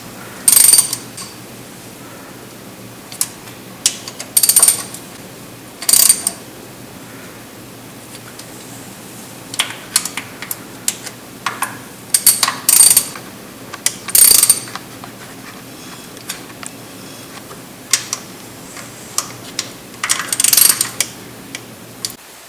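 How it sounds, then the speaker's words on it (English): A ratchet tightens carburetor bracket bolts on a Chevy 350 engine, with intermittent short bursts of close clicking strokes separated by pauses and quiet handling noise, with no talk. "Once your bracket is installed, tighten all the bolts."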